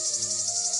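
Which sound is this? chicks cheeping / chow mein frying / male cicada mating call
male cicada mating call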